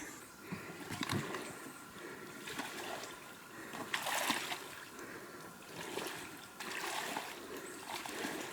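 A heavy, deeply laden load is hauled through shallow lake water in spring, with repeated uneven splashes and sloshing surges rising and falling, fairly faint and close by.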